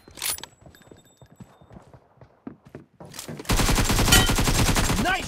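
AKM and AWM gunfire in a team deathmatch shooter game: scattered single shots and clicks, then from the midpoint a loud, dense burst of rapid automatic fire that continues to the end, with faint game voice cues early on.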